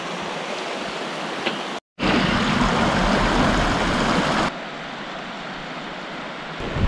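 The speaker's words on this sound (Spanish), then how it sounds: "A la izquierda tenemos el río Cerbol." The Cerbol river rushes along beside a walking trail, a steady broadband roar of flowing water heard close, briefly cut by a gap and then continuing a little quieter, with no voices.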